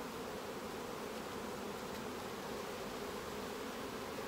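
Saskatraz honeybees buzzing steadily around an open hive during an inspection of the frames, a dense, continuous hum of many bees up close with no voices.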